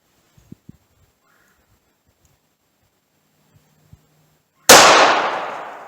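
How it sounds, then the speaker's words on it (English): A single loud, sharp gunshot from a .357 Magnum revolver firing a Winchester Silver Tip defensive round, with an echoing decay after a few faint clicks and handling noises. "a couple rounds of Winchester silver tip through the 357."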